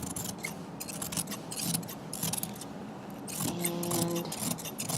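Scissors cut fabric skirt pieces during an upcycle, with a run of quick snipping and sliding blade strokes close by and a brief metallic ring near the end, quiet with no talk.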